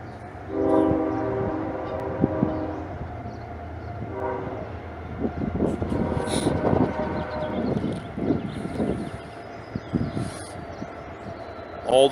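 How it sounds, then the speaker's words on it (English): A train rolls past with the low rumble of its rail cars, and its horn sounds in several long, loud blasts that stand out over the steady track noise. "Please excuse the train."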